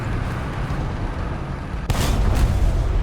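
Tank cannon shot from a Su-100P tank destroyer in War Thunder, a sudden loud boom that cuts in over the rumbling engine and battle noise, then rings on through the rest of the moment.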